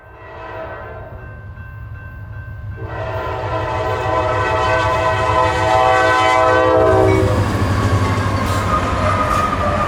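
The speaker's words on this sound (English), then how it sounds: "Most of the C40-9s have either one of two horns, such as the Nathan K5LA on 8884." A GE C40-9 locomotive sounds a Nathan K5LA horn, a loud sustained chord that swells in as the train approaches over a heavy rumbling engine and wheel noise, then the tones cut off while the roar continues.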